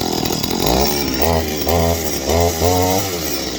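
A Stihl MS 200 clone chainsaw, not fully warmed up, revs up in several repeated bursts, each rising and then bogging down before settling back to idle, loud and close with no talk.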